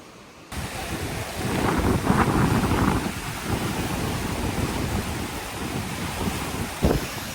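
Wind sweeps across a suspension bridge, a steady roar with gusty buffeting against the microphone that rises after a short quiet start and holds throughout, with no voices.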